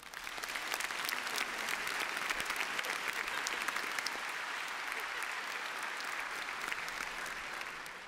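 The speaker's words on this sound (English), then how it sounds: "Please give them a round of applause." Steady, dense applause from a large crowd at a high school graduation ceremony, continuous clapping heard at a moderate distance that holds evenly for several seconds.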